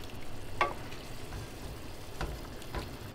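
Shrimp and pasta with broccoli rabe and black pepper sizzle softly in a pan as they are mixed together. A faint, steady frying crackle runs throughout, broken by a few brief scraping stirs.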